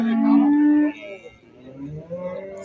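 A dairy cow, said to give 20 litres of milk a day, lets out one loud, sustained moo at a busy livestock market in Ganja, followed by crowd murmur and background voices.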